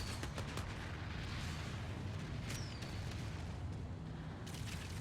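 Artillery fires in the Planetside 2 video game during an in-game memorial, with repeated booming bursts and sharp cracks at irregular intervals over a dense, rumbling background.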